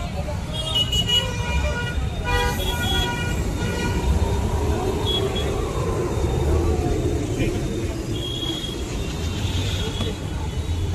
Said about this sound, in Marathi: हा इथे ट्रॅफिक आहे खूप स्वारगेटला.